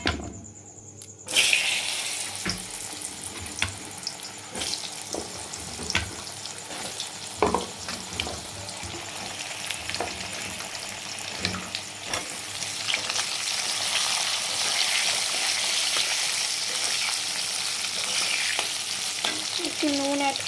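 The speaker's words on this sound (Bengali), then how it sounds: "এবার আলুটাকে চটপট ভেজে নেব" Potatoes frying in hot oil in a kadai give a steady, close sizzle throughout, with occasional stirring clinks and scrapes and no talking.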